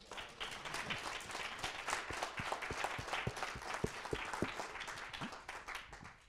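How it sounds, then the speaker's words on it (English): Audience at a blockchain workshop panel in Hong Kong gives a round of applause at the close, dense steady clapping with individual claps standing out, moderately distant and sustained throughout. "let's just give a big round of applause."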